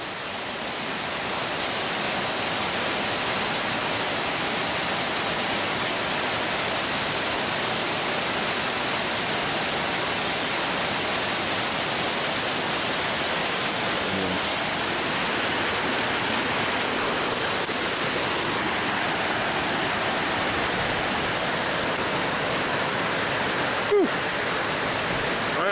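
Long Creek Falls, a waterfall at Three Forks along the southern Appalachian Trail, pours with a steady, loud broadband roar that holds unbroken throughout, close by, with a brief click near the end.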